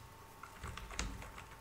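Code being typed on a computer keyboard makes soft, quick key taps in a short, irregular burst, faint against a quiet room hum.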